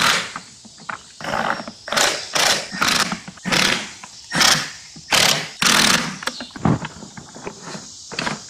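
Ratchet clicking in bursts while screwing parts back together inside the dashboard of a Lexus RX300 during A/C evaporator and heater core replacement, a series of close, loud mechanical rattling strokes separated by short pauses.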